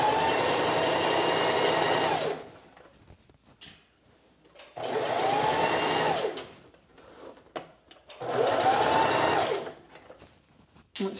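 A sewing machine stitches a sheath dress in three sustained runs of about two seconds each, separated by short pauses, loud and close with no talking.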